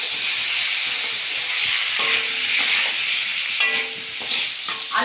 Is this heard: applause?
no